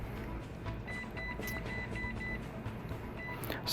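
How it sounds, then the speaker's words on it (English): A treadmill powers up after a countdown beep and its walking belt starts rolling, following replacement of the motor control board; a steady mechanical hum and whir runs throughout with faint repeated beeps. "Machine will count down, and it starts rolling."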